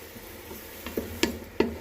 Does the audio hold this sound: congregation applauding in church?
no